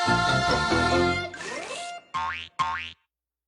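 A run of cartoon sound effects ends in two quick springy boings, bright and twangy, each cutting off sharply into silence.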